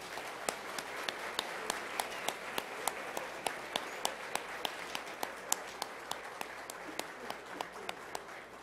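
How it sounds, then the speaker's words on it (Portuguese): An audience applauds a group at a formal ceremony in a legislative assembly, with steady, even clapping throughout and sharp individual claps standing out at a regular pace, heard from moderate distance. "saudemos o grupo com a mais venturosa salva de palmas"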